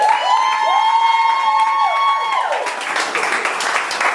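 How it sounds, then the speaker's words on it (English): A comedy club crowd in the Bronx applauds and cheers loudly. Dense clapping swells in after sustained tones and stays steady to the end, with scattered shouts mixed in. "Clap it up for Mama Mia one more time"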